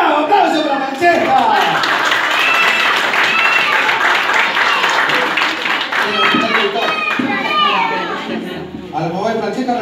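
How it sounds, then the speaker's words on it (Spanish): An audience, children among them, claps after a magic trick at a show. The loud, brisk clapping runs for about ten seconds, mixed with excited kids' voices and chatter. "¡Aplauso para Francesca!"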